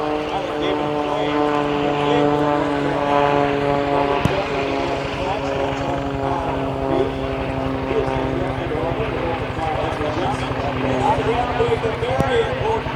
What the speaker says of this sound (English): You can see the Golden Knights aircraft.